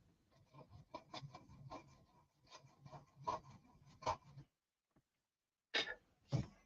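Hand sanding near a landing gear mold, rapid rhythmic rasping strokes close up, pausing briefly before a couple of final scrapes.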